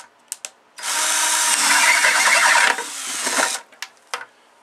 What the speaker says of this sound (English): So we're going to literally just drill.